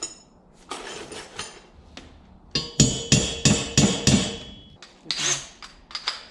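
A metal punch struck with a hammer to mark a hole spot during a 50mm wastegate install on a turbo Corvette, a series of close, sharp metallic taps and clinks at uneven intervals.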